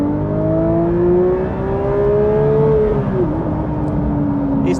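A Porsche 911 GT3 (992) with a manual gearbox revs its engine toward a 9,000 RPM redline, a loud, steady rising engine note with clear harmonics that briefly dips and then continues strongly, heard from inside the car.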